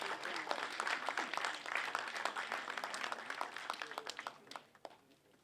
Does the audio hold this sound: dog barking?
no